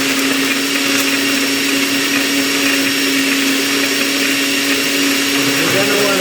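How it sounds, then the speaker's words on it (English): A blender whirs continuously and loudly as it crushes ice into iced coffee, a steady close motor drone with a grinding edge throughout and no talking. "Then blend it again."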